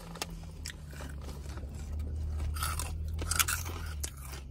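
Someone chews heart-shaped vegan snack pieces up close, producing a run of crisp, irregular crunches and biting crackles that grow denser toward the middle, with no talking.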